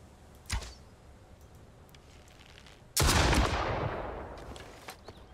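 Hunting rifle fire in the survival video game Mist Survival: a sharp single shot, then a much louder blast a few seconds later with a long, fading echoing tail.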